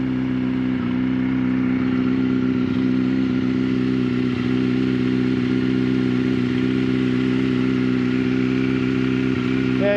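A 2005 Yamaha R6 sport bike idling on a cold day, its steady low engine hum running close and loud without revving throughout.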